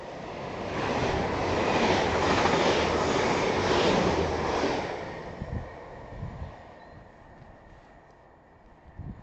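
A Class 802 train rolls past a Yorkshire station, loud broadband rumble and rhythmic clatter for about five seconds, then fades to quieter trackside noise with a few knocks.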